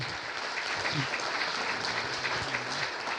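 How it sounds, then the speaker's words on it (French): A moderately distant round of applause from a keynote audience for the design teams, an even patter of many hands clapping that holds steady throughout at modest volume. "un petit tour d'applaudissement pour toutes les équipes design"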